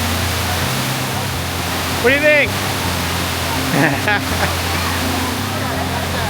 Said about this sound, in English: It's incredibly slippery and really loud. And just the sheet of water coming down is really disorienting